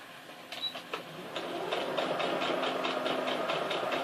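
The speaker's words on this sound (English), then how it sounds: "I've already started sewing it." A sewing machine stitches fabric with a steady, rapid mechanical whir, opening with a few separate clicks and then settling into continuous running, close and moderately loud with no talking.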